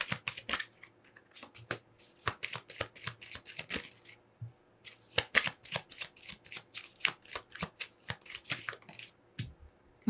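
Tarot cards are handled and laid face down, giving quick irregular bursts of riffling, slapping and sliding card sounds close up, with short pauses between flurries and no talk.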